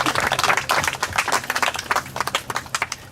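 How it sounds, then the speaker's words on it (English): A round of applause from a small audience, dense rapid hand claps lasting a few seconds with individual claps standing out near the end. "Round of applause for Jodie."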